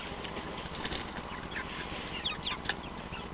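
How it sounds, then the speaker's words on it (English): Broiler chickens cluck at a water feeder in a coop, several birds with scattered soft clucks and brief squawks over a steady low background, moderately distant. "Here's our chickens feeding at the water."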